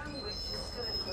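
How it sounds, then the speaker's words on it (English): Train wheels screech on the rails in the video game Outlast 2, a thin, sustained high-pitched squeal with faint rumbling underneath, heard briefly and fairly quietly. "That's an awful screeching. Well, I suppose that's how train lines work as well."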